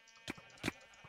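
Sheep in a video game bleat twice in quick succession, short nasal cries close by, with a fainter third call trailing after over a quiet electronic hum.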